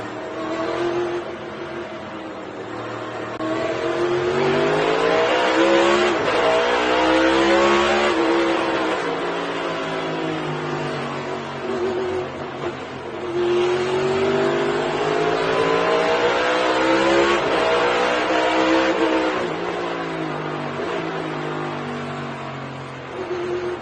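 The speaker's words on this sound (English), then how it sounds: "I don't like the sound of the new cars at Martinsville." New-generation race cars at Martinsville Speedway, recorded by a fan, roar loudly and continuously, their engine notes rising and falling as they accelerate and brake through the turns, with cars passing in waves and no voices.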